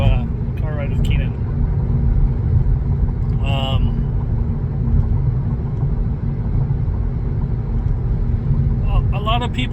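Steady low road rumble fills a car cabin on the move, continuous and fairly loud throughout, with a few brief higher sounds from inside now and then.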